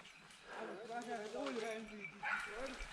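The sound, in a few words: hunting dog barking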